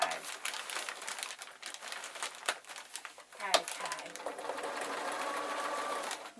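A sewing machine stitches fabric pleats for a hanging shoe rack, running in a fast, continuous mechanical whir and patter up close, with brief pauses and fabric rustling and a voice speaking in places.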